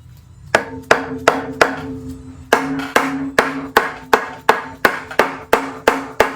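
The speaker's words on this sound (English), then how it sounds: "Actually going to use a bigger hammer." Hammer blows during a rebuild of a VW 1200cc 40hp engine, about fifteen sharp metallic strikes in a steady rhythm, loud and close with brief ringing after each hit and no talk.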